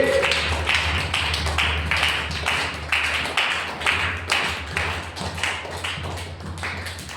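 A church congregation at a Sunday service claps hands together in thanks to God, a steady run of sharp, fairly loud claps in quick rhythm over a low hum, with no talking.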